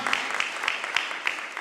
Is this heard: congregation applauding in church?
yes